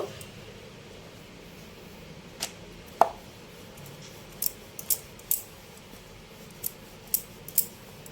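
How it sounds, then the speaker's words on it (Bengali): Edges of thinly rolled cheese nimki dough are trimmed with a knife, giving a handful of soft, sparse clicks and taps against the board over a quiet background. "ধারগুলো কেটে নেব।"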